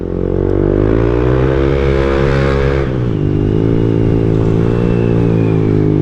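A Yamaha Aerox SP scooter engine runs loud and close, its steady buzzing note dropping in pitch midway as the throttle closes under engine braking, then settling into a lower drone.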